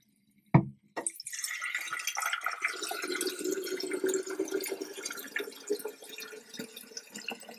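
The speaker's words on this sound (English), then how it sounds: "Fill up your kettle with nice cold water." A tap turns on after a clunk and cold water pours steadily into a kettle, the tone rising slightly as it fills, close and continuous.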